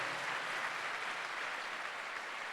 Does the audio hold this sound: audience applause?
yes